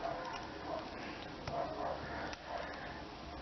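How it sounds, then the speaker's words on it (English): Dogs bark outside on a busy street, heard faintly and muffled at a distance as scattered yips and barks over a dense, constant background wash. "Those dogs are outside, not inside my house."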